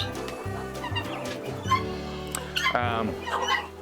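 Laying hens in a farm coop clucking and squawking in short repeated bursts, close and fairly loud, with a louder drawn-out cackle near the end.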